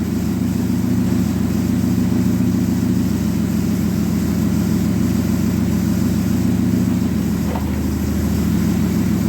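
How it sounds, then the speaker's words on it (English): Dodge Neon stock car engine running steadily while the transmission is cycled through its gears, a continuous loud idling drone with a small clunk and shift in tone near the end. "we're going to run the transmission through the gears"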